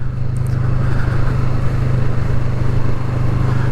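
Kawasaki Vulcan S motorcycle, a 2020 model, riding along with a steady loud engine drone and low-slung exhaust rumble, continuous and close, with wind noise and no talking.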